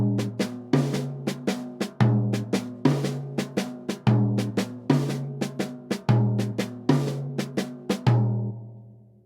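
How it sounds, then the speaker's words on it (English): A jazz drum solo pattern played on toms, snare and ride cymbal, with a steady repeating phrase of resonant tom hits and sharp snare accents, close and loud with no talking. "Here's another variation where you play the downbeat on the tom and just the and of 2 up here"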